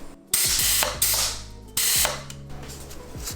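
A bath bomb press machine runs in three loud mechanical bursts, each a whirring, ratcheting drive that winds down with clicks, separated by short pauses.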